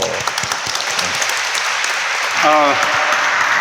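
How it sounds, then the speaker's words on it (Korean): Steady, dense applause from a public forum audience fills the whole stretch, with a voice briefly rising above it near the end. "큰 박수로 맞아주십시오."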